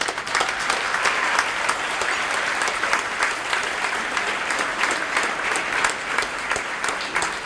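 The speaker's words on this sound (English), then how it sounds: "So I'd like to give a round of applause." A gala crowd at a college of optometry centennial gives the faculty a sustained round of applause, a dense, even wash of clapping throughout with no voices.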